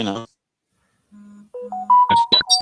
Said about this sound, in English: then your phone's going off